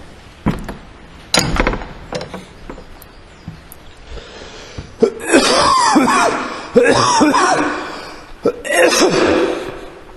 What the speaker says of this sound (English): I've got a cough now because obviously God wants me to cough